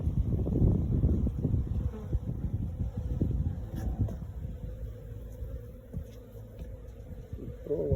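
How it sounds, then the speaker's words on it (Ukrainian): Honey bees humming around cleaned hive frames, a low steady buzzing drone close by, loudest at first and easing slightly, with faint knocks and handling noises. "Такий приємний гул бджіл"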